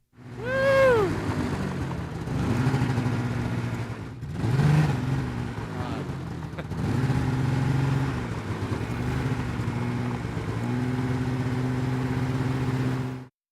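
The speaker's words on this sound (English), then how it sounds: "The experience of riding on a Polaris 800 Assault, quite the rush." A Polaris 800 Assault snowmobile engine runs loud and close throughout, with rising and falling revs and steady droning stretches as the machine is ridden.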